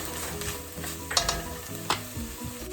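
Garlic goes into a lentil kale soup pot and is stirred, heard as a soft, close sizzle with scraping stir strokes and a few sharper clinks of the utensil against the pot; no one speaks.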